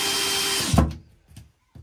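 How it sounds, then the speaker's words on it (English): A power drill whirs steadily while driving a screw into a wall plug set in tile, then cuts off sharply, followed by a few soft taps and clicks. "And then we just screw it in."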